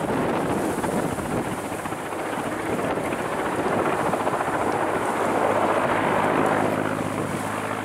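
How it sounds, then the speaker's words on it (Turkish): Several helicopters fighting a wildfire near a valley in Datça, a steady broadband rotor roar with wind noise, continuous and fairly loud with no talk. "Çok helikopter var şu anda arkadaşlar"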